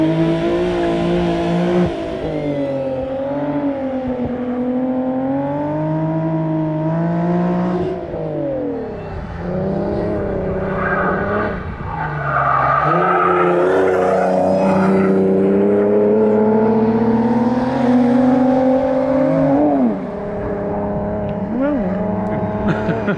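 A V6 sports coupe, an Infiniti G37 S or Nissan 370Z, accelerates hard through its gears. Loud rising engine drone climbs in pitch, dips at each shift, then climbs again over roughly twenty seconds, heard from inside with occasional speech.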